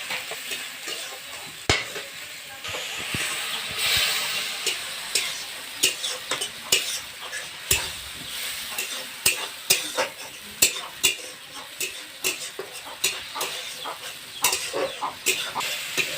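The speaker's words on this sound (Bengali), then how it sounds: "মশলা ভাজা কমপ্লিট।" Spice paste of turmeric, chicken masala and cumin powder frying in a kadai, a continuous sizzle broken by frequent sharp scraping taps of a spatula stirring against the pan, close and fairly loud.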